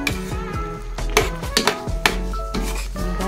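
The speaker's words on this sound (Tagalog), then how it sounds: "Haluin lang para malagyan ng gata lahat." A spoon stirs jackfruit stewed in coconut milk inside a metal pot, giving a run of close metallic clinks and scrapes at an uneven rhythm, with a low steady hum underneath.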